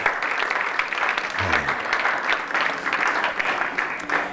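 Sustained applause from a church congregation fills the space, a dense, even patter of many hands clapping without a break.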